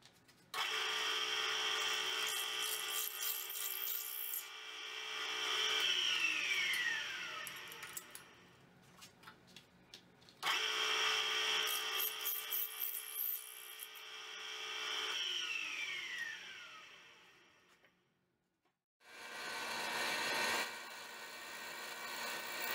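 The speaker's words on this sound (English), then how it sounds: "We begin making the stainless steel clips and structural components on our old milling machine" A 1975 US-made cast iron milling machine cuts stainless steel clips and structural parts, giving loud, steady machining passes that whine and shift in pitch, with short pauses between cuts.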